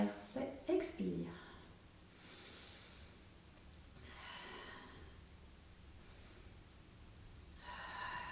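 Breathing in and out during a Pilates leg-circle exercise, soft drawn breaths and exhalations after a brief snort-like burst, faint and close, with some speech present.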